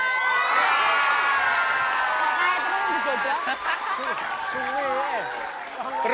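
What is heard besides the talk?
studio audience clapping and cheering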